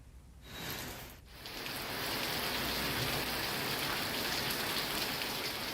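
Steady rain falls during a low-pressure system over villages in Gajapati district, Odisha, a dense even hiss that swells after a brief lull and keeps going, with no voices.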